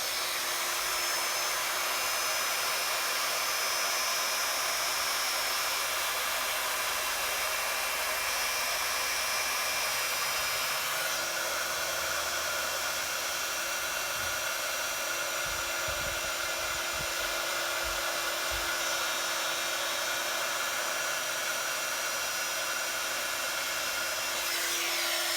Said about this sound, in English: And heat set that again.